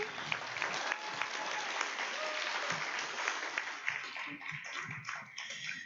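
A crowd at an Astronomy on Tap night in a Baton Rouge bar applauds the speaker, a fairly faint, even patter of many hands that thins slightly toward the end.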